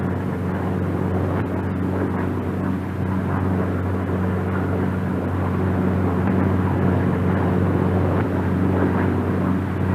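Republic P-47 Thunderbolt fighter in a stall, a steady loud propeller-engine drone with a low hum, continuous throughout without talk.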